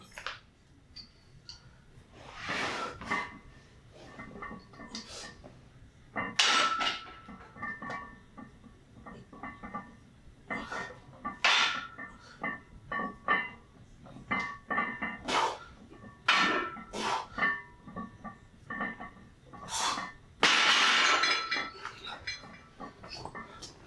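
Barbell set performed on Crandall Fitness monolift arms mounted on a power rack, with repeated metallic clinks and clanks of plates and bar at irregular intervals, close and moderately loud, no talking.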